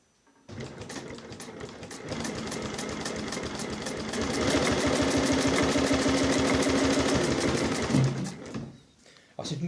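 A Dürkopp-Adler 366-76-12 industrial sewing machine with a pneumatic puller stitches at a fast, steady rhythm, close and loud, running for about eight seconds before stopping.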